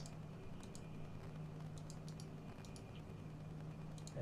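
Keyboard keys clatter in steady, light, close taps over a low constant hum, with small bursts of faster strokes and no voice.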